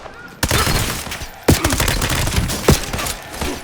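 Dense video-game gunfire from a Black Ops 7 firefight, with rapid automatic bursts and several sharp, loud shot transients over a continuous roar of battle.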